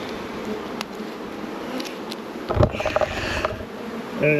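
Bees buzzing around a wasp-proof Langstroth nuc box, a soft continuous hum with occasional louder passes and handling knocks close by.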